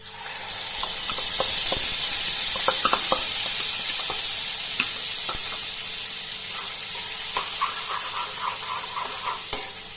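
Hot oil tempering with spices sizzles loudly for a Gujarati dahi tadka, a steady bright hiss punctuated by scattered pops and light clinks of stirring, alone without talk.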